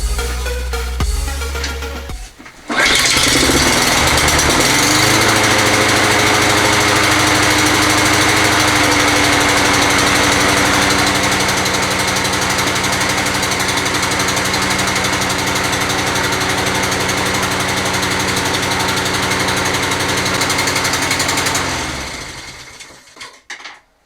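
A Toro 20782 lawn mower with a swapped-in Honda engine runs rich, a loud, steady, buzzing drone held for about twenty seconds after a brief start before it dies away.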